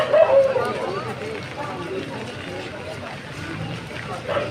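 A launch boat comes in on the monsoon-swollen Ganges at Naihati, its low engine rumble and water wash running steadily beneath crowd chatter and nearby voices.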